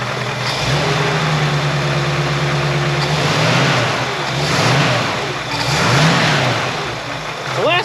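A 1966 Ford F100 truck with an engine noise, its mid-pitched motor idling and then revving up in several loud swells, close by, with faint talk at times.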